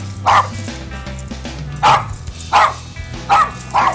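Several dogs bark in short, loud bursts, roughly five yips and bow-wows spaced across a few seconds, close by outdoors, with a low steady hum underneath.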